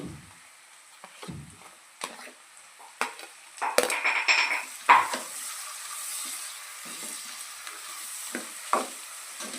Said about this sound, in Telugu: మనం ముందుగా వేసుకున్న ఉల్లిపాయ క్యారెట్ పచ్చిమిర్చి అయితే ఫ్రై అయిపోయినాయండి